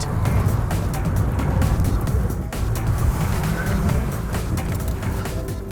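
A car speeds away from police during a chase on Sheffield's Manor Estate, its engine roaring steadily with tyre noise and road rumble for several seconds, fairly loud with no speech.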